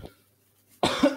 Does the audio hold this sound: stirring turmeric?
no